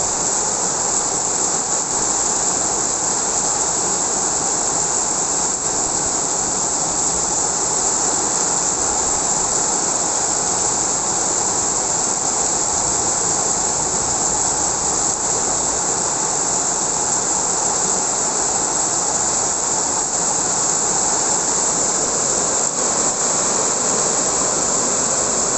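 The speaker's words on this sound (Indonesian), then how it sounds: "Anginnya kencang lagi, guys." Strong wind during a night rainstorm makes a constant, loud, rushing roar that never lets up for the whole stretch.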